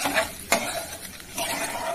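Kashmiri chilli and water stirred in a pan for soybean and pea dal, a steady soft scraping and sloshing with a few sharper utensil scrapes over a gentle sizzle.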